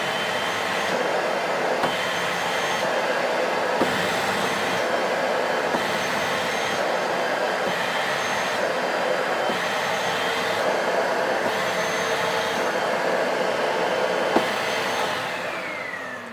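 A Bissell Little Green Machine carpet cleaner that has lost suction runs in a steady, loud motor whine and airflow roar, continuous and close throughout, with no talk.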